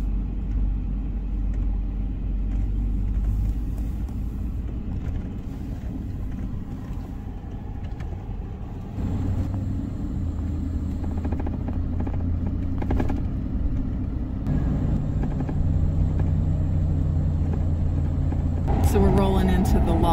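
A pickup truck hauling a camper drives along with a steady low engine rumble and road drone, shifting gear partway through, while people talk over it and noise rises near the end.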